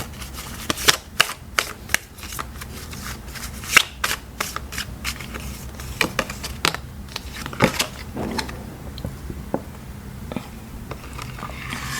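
Tarot cards are shuffled by hand for a love reading, giving a close run of crisp papery slaps and flicks in an uneven rhythm that grows sparser toward the end, with no voices.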